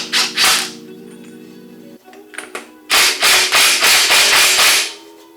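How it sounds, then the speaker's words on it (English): A socket tool works a nut on a Chevy 12 bolt axle during a rebuild. Short scraping, ratchet-like strokes come in quick bursts close by, with a louder run of rhythmic pulls near the end. "I'm going to get a socket, and I am going to snug that up just so it has zero play"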